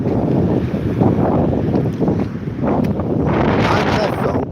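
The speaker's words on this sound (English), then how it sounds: "It is really windy." Strong wind gusts buffet the microphone on a blustery evening walk, loud roaring rushes rising and falling in waves over a few seconds.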